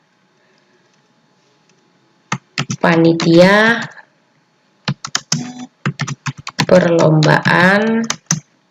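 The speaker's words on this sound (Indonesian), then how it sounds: "Kita awali dengan mengetik kalimat" Rapid clicking of computer keys in short bursts as a sentence is typed into a word processor, with a person talking in Indonesian over and between the typing.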